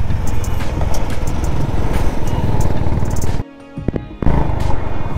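Several motorcycles ride in a convoy along a mountain road near Zojila in Ladakh, their engines a dense, continuous roar that suddenly drops away for a moment, then returns.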